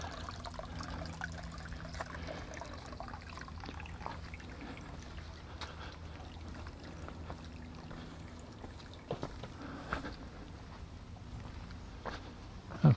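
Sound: Shetucket waterfall with low flow during drought

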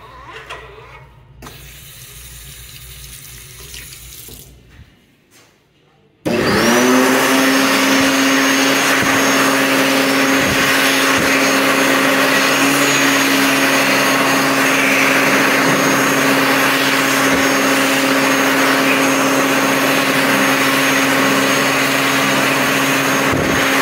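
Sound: electric hand dryers running

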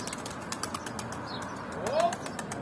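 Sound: pigeon flapping its wings in flight

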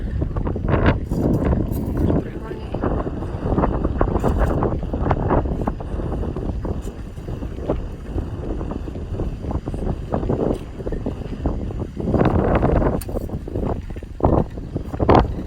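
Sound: wind blowing into the microphone at a dig site

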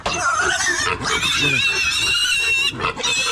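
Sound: piglet squealing

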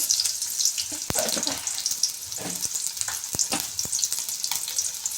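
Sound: onion and mustard seeds frying in oil

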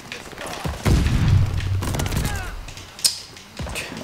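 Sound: gunfire in the video game Call of Duty: Vanguard

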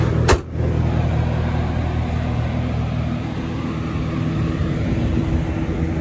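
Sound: 2010 Cadillac CTS-V supercharged V8 running

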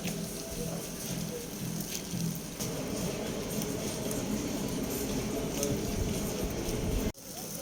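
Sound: rain falling

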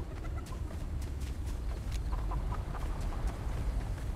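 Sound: chickens clucking in the video game Fortnite

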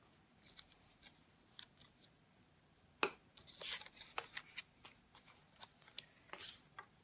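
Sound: scoring paper edges for a paper box

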